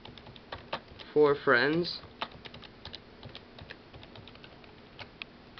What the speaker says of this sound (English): You're just going to type in free magic cards